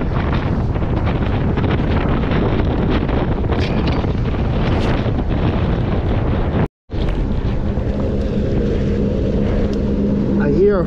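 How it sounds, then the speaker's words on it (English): A fan boat passes on open water near a kayak, its loud, steady engine-and-propeller roar filling the scene with heavy wind buffeting; the noise cuts out for a moment, then returns. "It's gotta be a fan boat."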